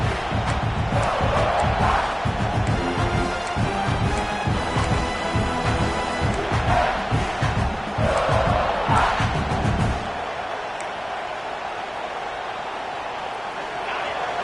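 Stadium crowd at a Georgia at South Carolina college football game in College Football 26, a loud roaring wash of cheering and yelling that holds steady, then drops to a quieter murmur near the end.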